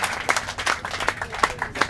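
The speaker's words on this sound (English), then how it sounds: "Round of applause for the utility." A studio audience and crew on a TV set clap for the utility crew members, a short burst of lively, uneven clapping close by, with no talking over it.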